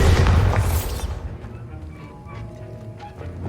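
A Bombarda spell explodes in Hogwarts Legacy with a heavy, booming burst that rumbles loudly for about a second, then trails off into faint crackling debris and quieter magical effects.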